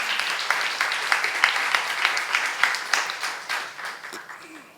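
A church congregation applauds steadily during a sermon, many hands clapping in an even patter that fades slightly toward the end, heard at a moderate distance.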